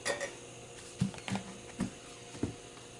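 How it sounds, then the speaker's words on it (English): Soup simmering in a pot is stirred, with a spoon knocking and scraping against the pot in a few quiet, irregular clinks at close range. "Give it a stir first."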